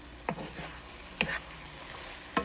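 Eggs cooking with ampalaya in a pan are stirred, giving three distinct scraping clatters of the utensil over a quiet, steady frying sizzle.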